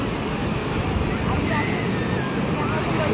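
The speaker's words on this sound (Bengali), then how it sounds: "এমন ঢেউ আসছে, হঠাৎ করে অনেক বেশি ঢেউ আসছে" Sea waves surge onto a beach in a steady, loud roaring wash mixed with wind buffeting the microphone, continuous for the few seconds with no clear break between breakers.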